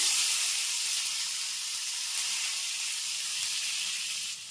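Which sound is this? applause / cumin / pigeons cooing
cumin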